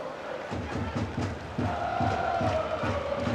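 Football crowd at Home Park stadium during Plymouth Argyle versus Bolton Wonderers, a steady roar of spectators with rhythmic chanting pulses, loud and continuous, swelling slightly partway through.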